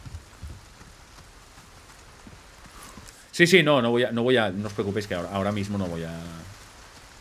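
Rain falling in Resident Evil 4 Remake, a faint steady patter with scattered drops, first alone and then under a man's speech for the second half of the clip.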